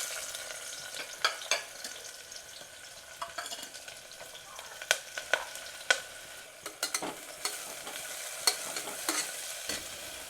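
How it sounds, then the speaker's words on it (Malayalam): Onions fry in oil in a pan, with a soft continuous sizzle broken by repeated sharp scraping clicks of stirring throughout, close and unaccompanied by talk. "അപ്പോൾ ചട്ടിയിൽ എണ്ണ ഒഴിച്ച് കുറച്ച് ഉള്ളി ഇട്ടെടുക്കാം."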